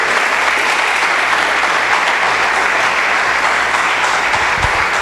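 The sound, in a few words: church congregation applauding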